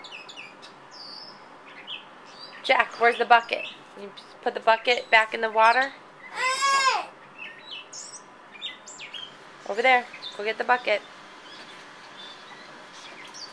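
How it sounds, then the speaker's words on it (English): Small birds chirp and tweet outdoors near a pool, bright short calls in scattered bursts, clearly heard but mixed with an adult and someone talking nearby. "Do you hear the birds?"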